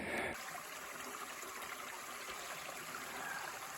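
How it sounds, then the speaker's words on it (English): Small mountain stream trickling and splashing steadily along the Appalachian Trail below a ridge, a close, continuous water flow with no voices, following a brief louder rustle at the start. "The sound of refreshing water, where I got some water after being up on the ridge for a bit."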